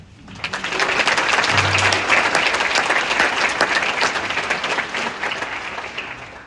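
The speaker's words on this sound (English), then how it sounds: "Please join me in a round of applause in their honor." An audience applauds at an Air Force Academy commissioning ceremony, steady, dense clapping filling the hall for several seconds before tapering off at the end.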